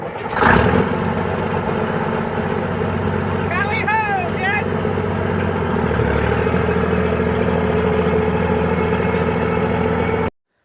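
An old Canadian-American Steiger tractor engine idles steadily with a low, even rumble, after a sharp start at the beginning; a man calls out briefly over it.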